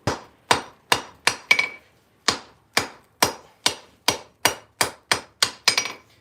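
Hammer blows on hot steel while forging tongs and chamfering the edges, about fourteen sharp ringing strikes in a steady rhythm with a short pause after the first five, close and loud with no talking.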